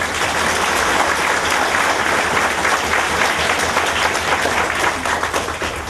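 Sustained applause from a large audience at a Guru Purnima gathering in Hyderabad, a loud, dense wash of many hands clapping steadily throughout.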